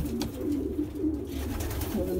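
Pigeons coo inside a racing pigeon loft, low continuous throaty burbling close by with overlapping calls throughout.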